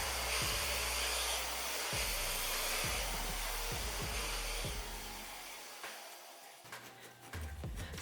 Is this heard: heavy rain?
no